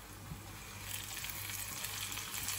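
Sliced mushrooms fry in a pan with chicken, making a soft, steady, continuous sizzle close by, with no voices.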